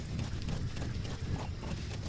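A horse's hooves clip-clop in the video game Metal Gear Solid V as a steady, rapid gallop set against a dense wash of in-game background noise, with no talking.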